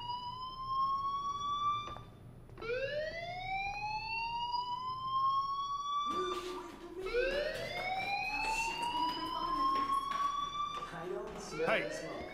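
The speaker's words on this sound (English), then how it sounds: "Hey, do you hear that fire alarm?" A fire alarm wails in the video game Life is Strange, a loud rising electronic siren that sweeps upward, pauses, then climbs again, running steadily while a voice speaks over it.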